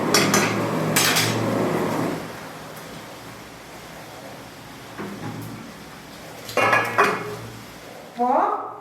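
Cooked kumatti greens simmered with tamarind are moved into a bowl: a few sharp metal-and-dish clinks and scrapes, loud at the start, then quieter gaps broken by short clatters near the end.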